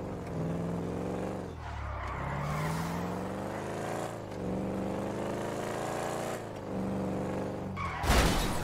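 A car drives in GTA 5, its engine droning and rising and falling through several gear changes with whining harmonics, loud and close, ending in a short burst of noise.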